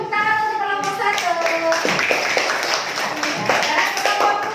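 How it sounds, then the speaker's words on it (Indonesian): Children clap for a group presentation in a classroom, a burst of bright, uneven hand claps that continues alongside chattering voices and a few shouted tones. "Kasih tepuk tangan untuk kelompok 1."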